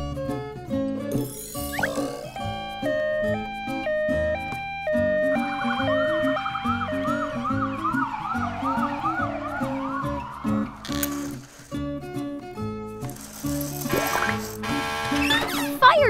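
An ambulance siren wails with a rapidly warbling, up-and-down tone in the middle of the passage, laid over a bright, plinking musical backing.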